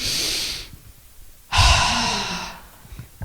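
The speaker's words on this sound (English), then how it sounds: "Take a nice deep breath in." Two long, loud breaths close up, a drawn-in inhale followed by another deep breath after a short pause, no talk.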